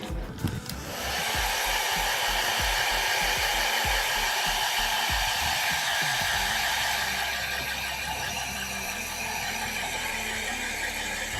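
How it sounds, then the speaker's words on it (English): An air blower drying freshly applied paint roars steadily and loudly at close range, starting after a short rumble and holding a constant whooshing hiss throughout. "Let's push this into the air blower and see how it comes out."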